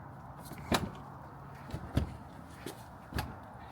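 A Porsche Cayenne's car door is pushed against interior trim, giving three or four soft, muffled thumps spaced about a second apart, quiet and close.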